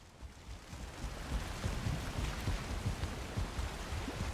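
Steady rain falling in Valheim, a soft continuous hiss with faint patters, heard alone at low level.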